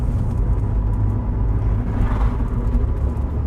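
A Rover 25 Commerce van rolls downhill in gear and slows, giving a steady, close low drone of engine and road rumble with a constant whir and no breaks.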